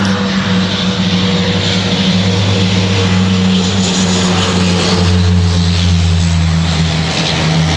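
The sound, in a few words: small propeller plane flying overhead, Caribbean hopper flight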